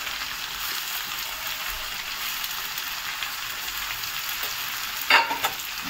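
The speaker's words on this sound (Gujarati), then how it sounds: "હવે આમાં આપણે ટમેટા નાખી દઈશું, અને આની જોડે જોડે થોડું મીઠું નાખી દઈશું" Tomatoes with salt fry in a pan with a soft, steady sizzle. A brief clatter comes near the end.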